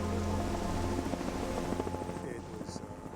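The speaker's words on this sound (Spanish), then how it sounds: "El helicóptero batalla durante 1 hora intentando rescatarlos antes de aceptar la derrota." A rescue helicopter hovers through a storm, its steady rotor drone loud and continuous throughout, with rain noise mixed in and faint background voices.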